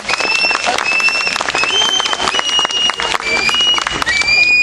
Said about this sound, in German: Begrüßt ihn ruhig mit einem herzhaften Applaus.